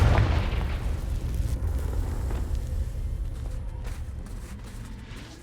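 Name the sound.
Confringo spell explosion from the video game Hogwarts Legacy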